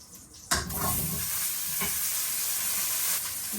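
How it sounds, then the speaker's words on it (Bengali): Potatoes dropped into hot oil with cumin seeds burst into a sudden loud sizzle, then settle into a steady crackling fry with faint stirring scrapes, close up in a home kitchen. "এই যে জিরের মধ্যে দিয়ে দিলাম তেলের মধ্যে দিয়ে দিলাম আলু"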